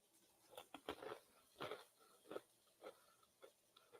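Cheese crisps flavored with dill crunch between the teeth in several sharp, close bites, faint and separated by brief quiet gaps.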